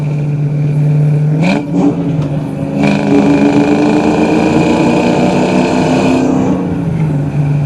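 A 1995 Ford Mustang Cobra accelerates hard in a continuous loud pull, its engine note climbing steadily through two gear changes with no talking.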